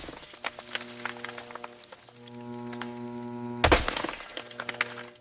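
A single sharp crash of laminated safety glass shattering at a glass factory, loud and close, with steady machinery hum and clinks running before and after.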